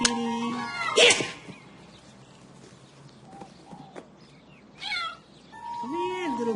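A cat meows several times, short calls spaced apart with a longer, rising meow near the end, fairly close, among faint background noise.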